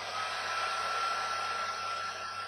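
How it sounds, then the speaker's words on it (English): A hair dryer on a warm setting blows a steady, even whoosh with a faint whine as it heats a vinyl decal, running continuously throughout with no speech. "I've got the hair dryer set on a warm setting. So we're going to go ahead and turn that on and put some heat on the decal."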